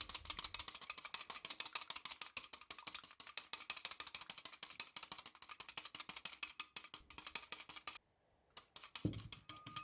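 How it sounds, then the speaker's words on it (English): Dressing being whisked with dried herbs and black pepper for a homemade papaya dressing, giving a steady, rapid clicking and scraping of whisk against bowl that runs close and continuous throughout, with one brief pause near the end. "Using a whisk, we'll blend everything together."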